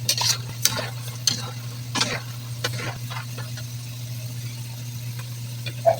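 Rambutan seeds fry with chili in a pan, giving a steady sizzle under a low hum while a utensil stirs and scrapes in repeated bursts. No one speaks.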